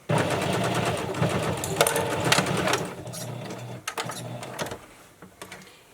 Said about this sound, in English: And so I've sewn the 1/2 inch bias tape